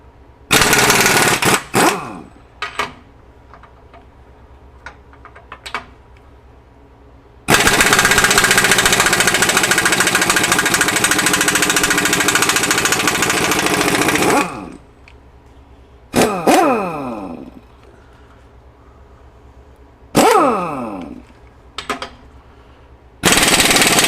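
A Myers MTS53371 air impact wrench hammers in short rattling bursts, then in one long sustained run of about seven seconds, followed by more brief loud bursts, close and harsh with no voices over it.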